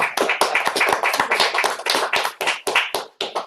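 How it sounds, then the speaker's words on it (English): Audience applause after a lecture on adapting to climate change: dense, steady clapping from many hands, loud and close, lasting the whole stretch without voices. "I appreciate the applause"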